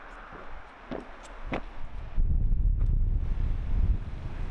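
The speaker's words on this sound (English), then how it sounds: "Windy." Gusty wind buffets the microphone on a Scottish hiking trail along the Great Glen Way, with a low rumbling roar that surges louder halfway through and stays strong, alone with no talk.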